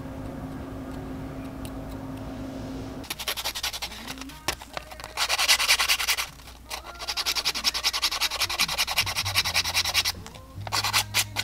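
Sanding of small carved wooden legs for a bullfrog tadpole fishing lure, rapid close scratchy strokes in bursts with short pauses, following a quieter opening stretch.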